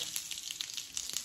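Curry leaves crackle and sizzle in hot oil in a soft, close spatter of small pops that never stops.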